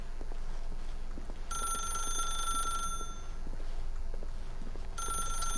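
In the video game The Stanley Parable, an electronic telephone ringer sounds in two bursts, one about a second long and a second starting near the end, over a steady low room hum.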